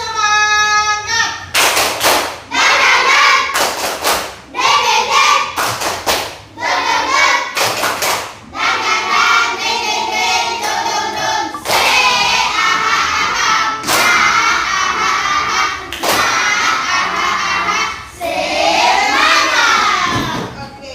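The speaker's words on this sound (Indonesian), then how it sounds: "Tepuk semangat." A group of schoolchildren in an Indonesian classroom chanting together with rhythmic bursts of clapping, loud and energetic, patterned claps alternating with shouted phrases.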